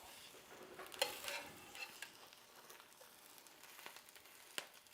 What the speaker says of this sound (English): Listen to it crackle.